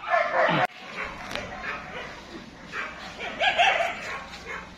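An American Eskimo dog being handed over to new owners gives several loud, close yips and barks with some whimpering, mixed with nearby people talking.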